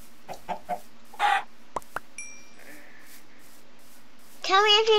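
Chickens in a Minecraft-style game cluck in short scattered bursts, with a few clicks and a longer rising squawk near the end, while people talk faintly between the sounds.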